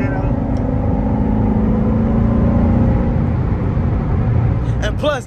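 A Chevrolet C7 Corvette cruising in fourth gear gives a loud, steady engine drone from inside the car, holding an even pitch for several seconds before easing off.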